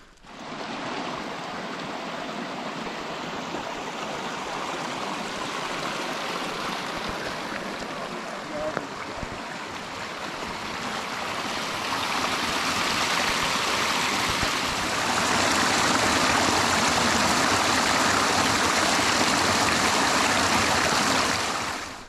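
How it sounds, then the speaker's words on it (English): Rushing water from a mountain stream crossing on a Colorado Trail hiking path, a steady broadband gush that swells louder toward the end, with no clear talk over it. "We had a water crossing."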